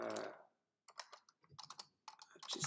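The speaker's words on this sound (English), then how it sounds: "Just typing a message" Quiet keystrokes on a computer keyboard tap in short irregular bursts with brief pauses, faint and close, heard alone after a short noisy start.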